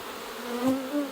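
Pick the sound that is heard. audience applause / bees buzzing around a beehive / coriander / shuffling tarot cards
bees buzzing around a beehive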